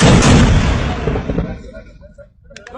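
A Pakistan Army mortar fires once with a heavy, close blast that opens the clip, then rolls off into a fading rumble over about a second and a half, leaving faint background sounds.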